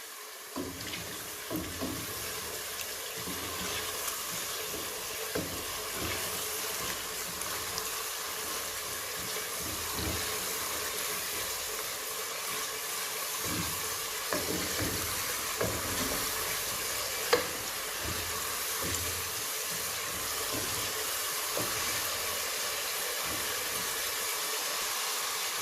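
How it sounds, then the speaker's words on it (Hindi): Lobia masala frying in oil in a pan while being stirred, a steady, quiet sizzle with soft scraping and clinks of the spoon throughout and no talking. "इसे अच्छी तरह भूनेंगे।"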